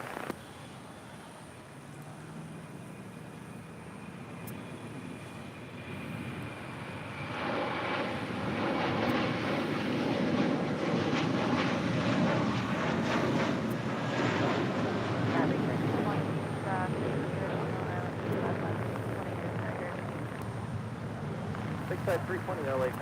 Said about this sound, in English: Next, a heavy departure on 25 right.